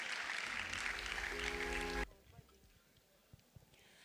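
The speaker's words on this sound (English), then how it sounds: "A round of applause, please." Audience applause at a female achievers' award ceremony, a dense burst of clapping that stops abruptly about halfway, leaving quiet room noise and a few faint knocks.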